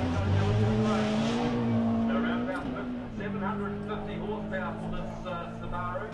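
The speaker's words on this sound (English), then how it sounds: "we're hearing 750 horsepower for the Subaru Impreza WRC" A 750-horsepower Subaru Impreza WRC rally car roars hard through a stage at the Ashley Forest Rally Sprint, its engine note rising and shifting with some tyre noise, heard under continuous commentary.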